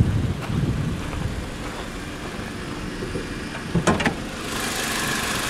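A 2015 Toyota Corolla S's 1.8-liter four-cylinder engine with dual VVT idles steadily at moderate level, a low continuous hum with a couple of brief clicks or knocks near the end.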